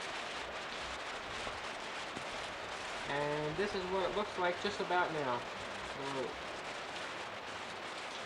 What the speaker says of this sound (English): It's a lot of rain, it's not too much wind